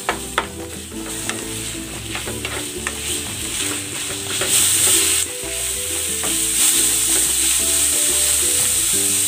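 Flaked milkfish (bangus) meat and onion are sautéed in a pan, with a loud, close sizzle and repeated scraping stirs, and the frying hiss grows stronger partway through.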